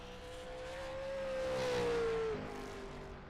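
A sim race car in a racing video game drones down the back straightaway, its engine note holding steady and slowly rising before a gear change drops the pitch, loud and close with no voices.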